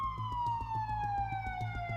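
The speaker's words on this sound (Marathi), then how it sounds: "पोलिसांच्या गाड्यांचे सायरन आसमंत फाडत तिथे पोहोचले." Police car sirens wail loud and close, with a sweeping falling tone over a fast, regular pulsing pattern that runs throughout and nothing else audible.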